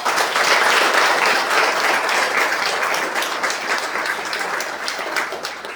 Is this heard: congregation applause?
yes